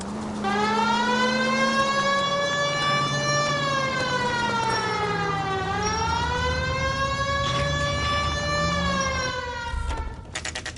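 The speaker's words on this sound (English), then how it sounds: "at least use the siren." A police car siren wails, rising and falling in long, steady sweeps, loud and close throughout, with no voices.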